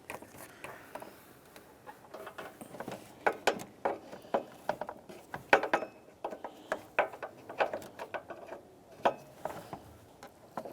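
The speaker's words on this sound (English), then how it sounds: "you can go ahead and snug it up with a wrench" A 16 mm wrench tightens a radiator line fitting on a 2001-2005 Ford Explorer Sport Trac, making a string of sharp metallic ratchet clicks and taps in irregular bursts, close and crisp, with no talk.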